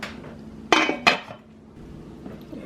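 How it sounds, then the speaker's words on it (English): Lid set onto a crock pot, two quick hard clanks close together followed by a brief rattle as it settles, then quiet. "And then put the lid on, and we should be good to go."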